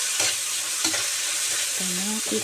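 Chopped tomatoes with crushed black pepper sizzle and fry in a pan, stirred so a spoon scrapes in a few short bursts over a steady close hiss, with no talking.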